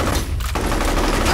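Shotgun fire in a video game, a dense burst of blasts with rapid repeated reports filling the whole short stretch, loud and close.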